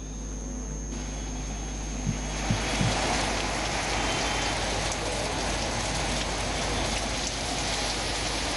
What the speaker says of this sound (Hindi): गुज़िश्ता शब से बूंदाबांदी हो रही है